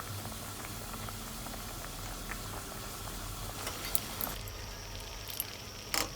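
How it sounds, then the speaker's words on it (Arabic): Quiet, steady bubbling of an uncovered pot of water at a boil, with a few small pops and clicks near the end. "ما نغطيش عليها لحد ما تغلي علشان نشيل الرغوه اللي هتطلع فوق دي"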